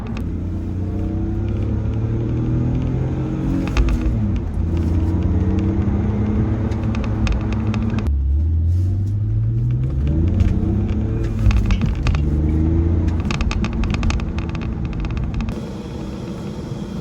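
A $500 BMW E46 330i Sport drives along with a steady, close engine drone whose pitch rises and falls through acceleration and gear changes, over continuous road rumble.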